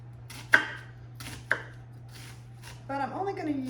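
A knife cuts vertically through a very large onion on a board, two sharp separate chops about a second apart, followed by softer rustling and handling of the cut pieces, close and clear over a steady low hum.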